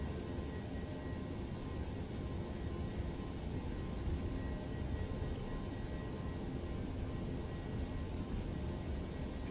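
A ToLiss A321 airliner in the X-Plane flight simulator takes off with a steady, broadband engine roar that stays even and fairly quiet throughout, with no talk over it.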